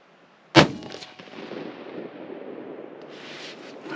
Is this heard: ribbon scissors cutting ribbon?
no